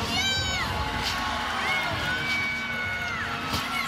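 A steady murmur from a college gymnastics crowd at Cal during a beam routine, with scattered high whistles and shouts rising over the low buzz.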